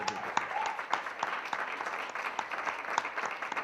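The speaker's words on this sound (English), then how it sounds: "Let us give Matthews a big applause." Audience applause at a virtual corporate symposium: dense, steady clapping from a group, with sharp individual claps standing out throughout.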